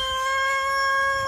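Backyard chickens cluck and crow in a windy garden, a steady close chorus with no talk over it.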